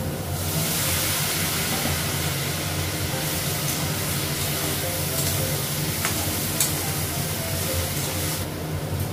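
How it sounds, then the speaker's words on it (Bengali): Water poured into a hot pan of frying spices with cumin powder and ginger paste sets off a loud, steady sizzle that hisses continuously, with a few sharper crackles and no voices. "অল্প জল দিলাম"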